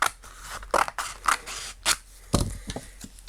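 Scissors snip through paper to cut out little figures for handmade Christmas hanging decorations, giving a string of close, crisp, irregular cuts and rustles without any speech.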